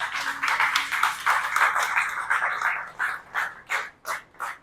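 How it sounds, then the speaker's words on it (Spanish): A church congregation applauds the Lord, moderately distant clapping that swells and then thins into a few slower, separate claps as it dies away. "Den un aplauso al Señor."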